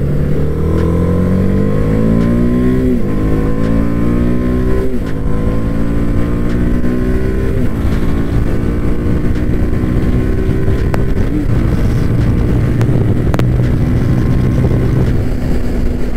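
A TVS Apache RR 310 motorcycle engine in track mode revs up repeatedly through the gears, its exhaust note climbing in pitch with each shift, loud and close amid heavy wind noise.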